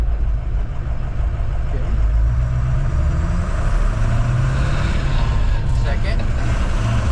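A Ford 6.0 Powerstroke diesel pickup with a triple VGT turbo setup pulls away in first gear, its engine a steady low rumble with a rising turbo whine, heard from inside while someone talks briefly.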